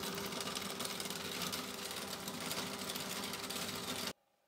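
A VEVOR 250 W pipe cleaning machine's electric motor idles with no load, a steady loud whirring drone held for about four seconds before it cuts off abruptly.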